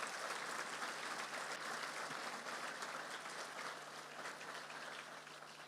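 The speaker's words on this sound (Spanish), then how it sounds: "Dale un fuerte aplauso a Jesús." A church congregation gives Jesus a strong round of applause, a continuous, fairly faint and distant roar of many hands that tapers slightly toward the end, with a low steady hum beneath.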